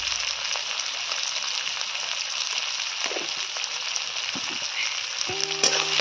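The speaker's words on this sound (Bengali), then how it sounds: "এইভাবে আমি ফ্রাই করছি পালং শাকের জন্য" Small crabs and onions frying in oil seasoned with turmeric and salt, the base for a Bengali crab curry with cauliflower and spinach. A steady, even sizzle runs throughout, with a few light clinks near the end.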